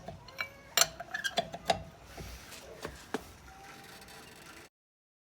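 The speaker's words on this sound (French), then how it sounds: "Maintenant, juste assure-toi de resserrer, que tous les boulons sont bien serrés." Wheel bolts being tightened with a wrench during a roadside tire change, giving a run of sharp metallic ratcheting clicks and knocks close by, busiest early and thinning out before the sound cuts off.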